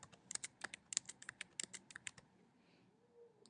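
Rapid keystrokes on a computer keyboard while tabbing through an order form, a quick irregular run of crisp clicks heard close and alone, then stopping.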